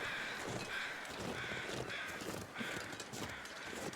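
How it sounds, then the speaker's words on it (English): Crows caw repeatedly in the snowy wilderness of the survival game The Long Dark, the calls overlapping one another against a steady, fairly loud backdrop of wind-like ambient noise. "Okay, we have crows."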